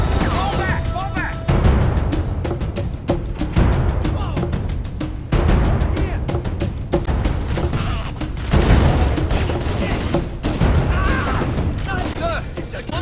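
Dense, loud gunfire from Halo: Combat Evolved Anniversary, with rapid repeated shots and bursts crackling nonstop and occasional heavier booms, while voices shout over the shooting.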